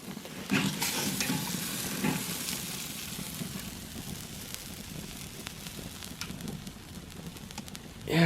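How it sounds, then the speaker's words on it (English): A tomahawk ribeye steak flaring up on a 26-inch Weber grill, a steady close sizzle and crackle of burning fat with occasional pops throughout, ending in a sudden louder burst. "Steak is on fire."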